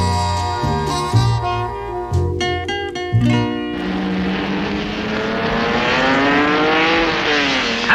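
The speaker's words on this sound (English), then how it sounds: "Have the thrill of driving a racing car yourself at Britain's most famous racing circuit, Brands Hatch" A racing car engine at the Brands Hatch circuit roars up and swells in pitch after a few seconds of bright musical notes, then holds a loud, steady rising drone to the end.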